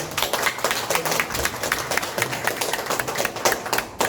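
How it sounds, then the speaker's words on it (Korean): Dense audience applause at a Korean senior welfare committee event endorsing a presidential candidate, steady and sustained crowd clapping throughout with no talk over it. "다시 한번 뜨거운 박수 부탁드리겠습니다"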